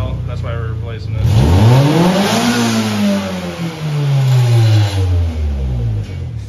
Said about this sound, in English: this is what the stock exhaust sounds like. There's a little bit of an exhaust leak